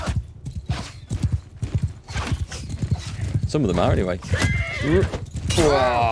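In the video game Mount & Blade 2: Bannerlord, hooves clatter at a gallop and several horses whinny loudly, with someone talking over the commotion at the start.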